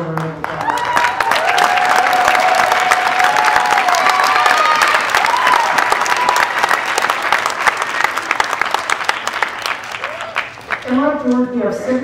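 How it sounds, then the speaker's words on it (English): A graduation audience in a high school ceremony gives a sustained, loud round of applause with some cheering, clapping steadily for about ten seconds before a voice begins speaking near the end. "can you stand up so we can give you a special round of applause?"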